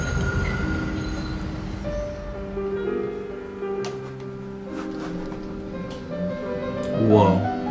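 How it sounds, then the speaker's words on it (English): A train passing in a video game, with a sustained tonal rumble and layered whining pitches that swell into a louder screech near the end. "Oh, is that a train?"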